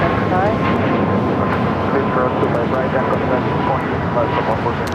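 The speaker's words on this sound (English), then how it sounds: "Swiss arriving on the north side, flight 40 coming in from Zurich" Swiss flight 40 from Zurich, arriving on the north side of Los Angeles LAX: a steady, dense jet-engine roar that fills the whole stretch, with talk underneath.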